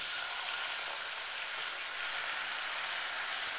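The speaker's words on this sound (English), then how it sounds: "go ahead and add in your heavy cream and butter" Heavy cream and butter hitting hot caramel sauce for a turtle pie, giving a loud, steady, hissing sizzle that holds evenly throughout, close by with no talking.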